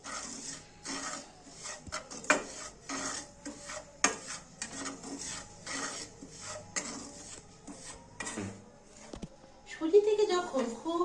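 A spoon scrapes and stirs semolina in a pan for suji halwa, making repeated rasping strokes at a fairly even pace while a person talks over it.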